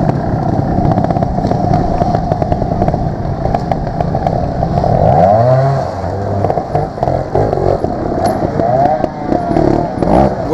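A trials motorcycle climbs a rocky ascent at the final round of the women's British Trials Championship, its engine loud and close, blipping and revving in steady bursts with a swelling, sweeping pitch partway through.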